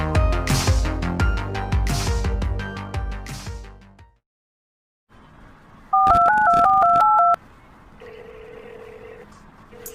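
Telephone keypad dialing tones (DTMF) ring out as a short, loud run of paired-pitch beeps in a steady rhythm, coming after music and a brief silence, then a quieter tone follows.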